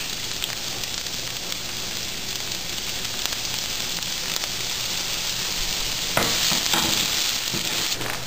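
Onions frying in olive oil in a pan, a loud, dense, continuous sizzle heard up close that swells slightly brighter near the end, with no one speaking.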